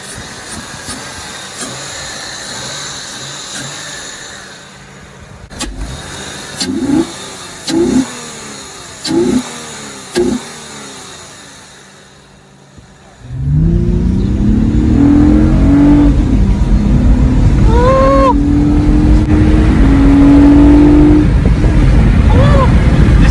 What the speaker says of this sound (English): And let's go start up the car real quick.